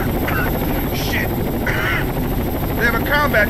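A combat helicopter in Rainbow Six Vegas 2 thrums loudly with constant rotor noise, while voices talk over it in brief bursts.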